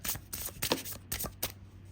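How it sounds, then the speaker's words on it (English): Tarot cards riffled and shuffled in several quick bursts, with soft papery flutters and taps close by, no talking. "let me shuffle it really quick."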